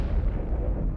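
An explosion set off by a detonator rumbles as a dense, low, sustained roar that fills the whole moment, heavy and loud with no voices.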